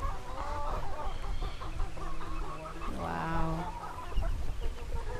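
Ducks and geese on a family farm in the Philippines call together, a busy mix of clucking, quacking and honking over steady farmyard background noise.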